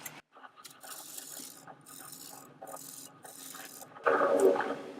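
A lathe tool smooths the end grain of a small bubinga bowl, making faint, intermittent scraping and rasping bursts that give way to a louder, denser rasp near the end.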